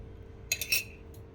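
A metal spoon clinks against a bowl while sugar goes into urad dal batter: a few quick, bright taps close together, then a faint final clink, near and alone.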